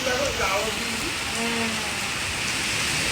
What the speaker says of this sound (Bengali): এই দেখো প্রচণ্ড ঝড় বৃষ্টি হচ্ছে